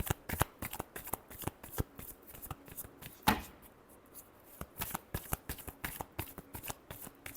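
Tarot cards shuffled by hand in a long run of crisp riffling bursts and taps, close and fairly quiet, with one sharper snap partway through and no talking.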